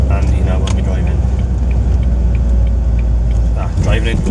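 A Porsche driving slowly into a car boot sale, its steady low engine and road rumble continuous and close throughout, with voices talking over it.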